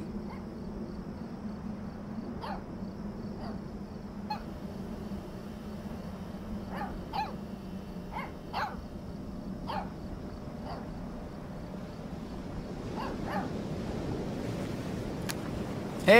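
Puppy in the Life is Strange 2 video game giving short, scattered barks and yips throughout, fairly quiet over a steady outdoor ambience of insects and low rumble, with no talking.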